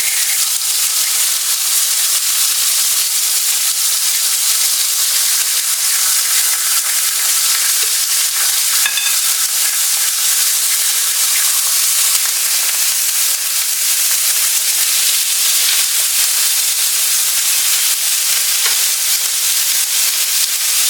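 Meat browning in a hot pan for barbacoa, a steady, loud, close sizzle and frying crackle holding evenly throughout with no talk.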